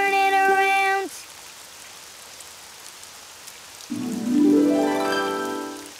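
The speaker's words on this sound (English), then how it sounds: "Oh, it's raining outside." Soft, steady rain falling outside in the Daniel Tiger cartoon, a continuous hiss framed by brief tonal, voice-like or musical sounds at the start and end.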